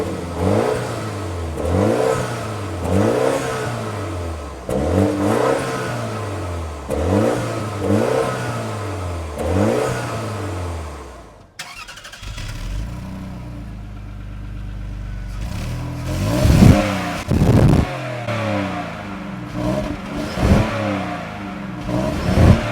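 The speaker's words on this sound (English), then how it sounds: "Let's hear these two cars rev it out." A Land Rover Freelander V6 and a BMW X1 four-cylinder rev in turn: first about six loud, evenly spaced rev cycles rising and falling, then a brief drop to idle, then sharper, quicker revving bursts.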